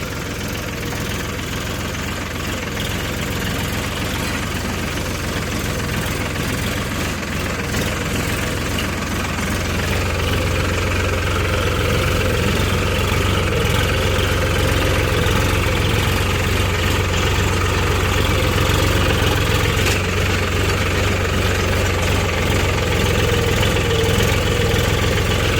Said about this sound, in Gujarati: ટ્રેક્ટર ચાલુ કરી દીધું છે